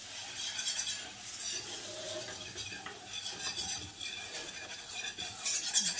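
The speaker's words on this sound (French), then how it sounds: "Je mélange l'ensemble, je baisse le feu." Butter and flour being stirred together in a pan over heat, a utensil scraping and clinking against the metal in soft, uneven strokes with a faint sizzle beneath, no voices.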